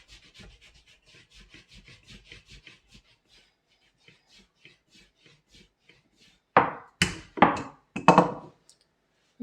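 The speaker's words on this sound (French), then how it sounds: "Donc je vais les aplatir avec mon rouleau à pâtisserie." Bread slices being flattened with a rolling pin in a home kitchen: soft, rapid rolling rubs at first, then a pause, then four louder, heavier pressing strokes close by, with no talking.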